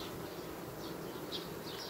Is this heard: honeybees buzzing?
yes